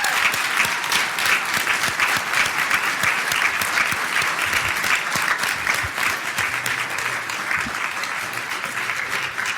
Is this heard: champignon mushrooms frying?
no